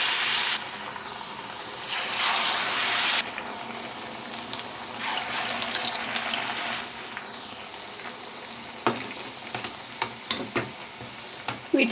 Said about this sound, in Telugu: వేడి ఆయిల్లో వేసేద్దాం. ఇలా ఆయిల్లో వేసేస్తున్నాం.